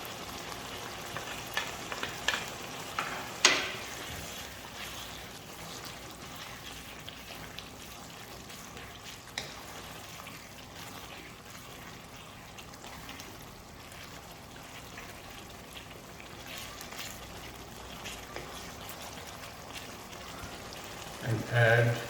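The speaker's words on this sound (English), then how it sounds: "Now we will add our mushrooms," Mushrooms frying in a pan, a steady, quiet, close sizzle with occasional soft clicks and stirring scrapes, ending with a brief louder knock.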